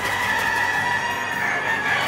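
Chickens cluck and a rooster crows amid a steady, dense barnyard din on a chicken farm, close and loud with no talking.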